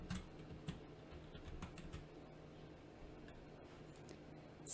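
Fingers tapping on a computer keyboard, a scatter of soft, quick key clicks in short bursts, faint and close in a quiet room without speech.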